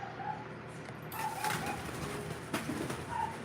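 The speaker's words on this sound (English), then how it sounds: "all the birds are just losing their little minds now for some reason" Pigeons or doves coo softly in the background, several low calls repeating over a steady hiss of ambient noise, with no one talking.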